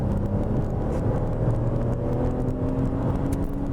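A Citroen C3's 1.2-litre three-cylinder non-turbo engine pulls away out of a village, a steady low drone heard from inside the car, continuous and fairly loud with no talking.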